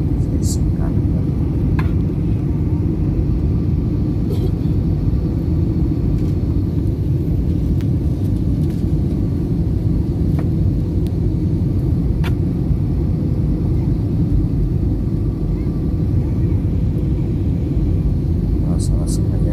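Steady low cabin rumble inside an airliner in flight from Makassar to Palu, a constant loud drone of engine and airflow running throughout, with a voice speaking over it.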